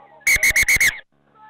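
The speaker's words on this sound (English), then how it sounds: "Blow the whistle." Referee's whistle at an amateur rugby league match: five loud, sharp blasts in quick rhythm, with faint crowd noise before and after.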